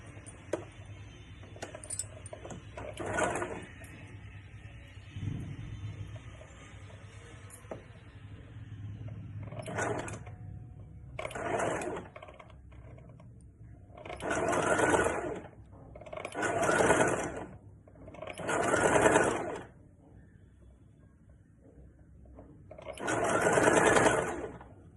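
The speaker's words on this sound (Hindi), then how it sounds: "तो मैं ऐसे भी एक सिलाई करके दिखा रही हूँ।" A sewing machine runs in repeated short bursts while stitching a princess cut blouse, each run lasting a second or two with pauses between and some handling noise.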